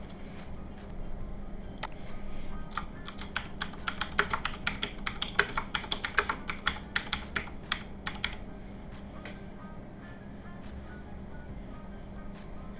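Rapid keystrokes on a computer keyboard as a headline is typed, a steady run of close clicks over a constant low hum, with no talking.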